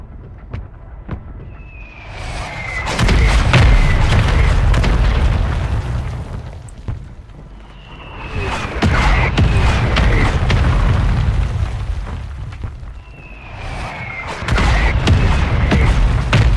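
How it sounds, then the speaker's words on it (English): Mortar strike explosions in the Warzone video game land as three loud, booming blasts spaced about five seconds apart, each with a sharp crack and a long rumbling tail, with no talk over them. "Mortar strike on the way."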